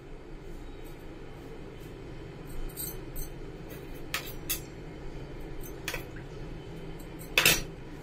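A spoon works milk a little at a time into a cashew mixture in a bowl, with light scraping and scattered metallic clinks against the bowl, close by with no talk.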